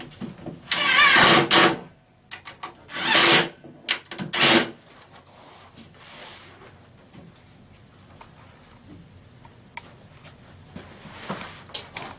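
A power drill drives screws into a metal-bracket base cabinet in three short whirring bursts near the start, followed by quieter handling and rustling noises, with no speech.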